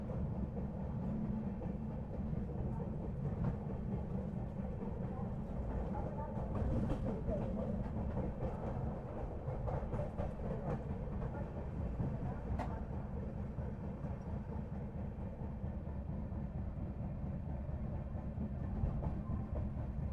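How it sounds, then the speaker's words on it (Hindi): The Sanghamitra Superfast Express, running Danapur to SMVT Bengaluru, stands at an Indian railway platform, a faint low idling rumble with distant station clatter and occasional clicks beneath a quiet ambient hum. "हमारे सामने खड़ी है संघमित्रा सुपरफास्ट एक्सप्रेस, जो कि दानापुर से चल के करके SMVT बेंगलुरु तक जाती है"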